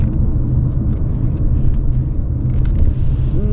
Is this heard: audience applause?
no